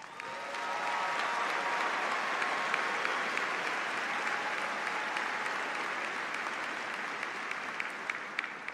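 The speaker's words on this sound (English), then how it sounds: "let us give these graduates another round of applause" A large crowd at the Auburn University 2018 summer commencement applauds the graduates. The clapping is sustained and even, like a broad wash from a big hall, and it runs steadily from start to end.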